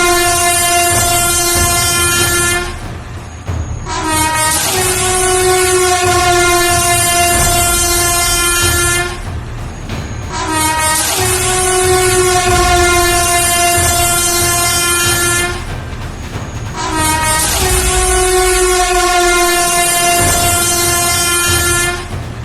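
Long, loud train horn blasts ring out four times in steady succession, each lasting a few seconds with brief gaps between, over a continuous rumble of the passing train.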